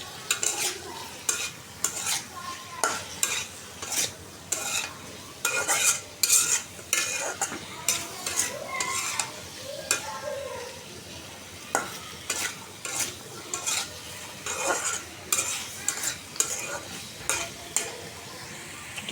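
A curry being stirred and sautéed in a pan, with repeated scraping strokes of a utensil against the pan over a steady sizzle, close and moderately loud, continuing without talk.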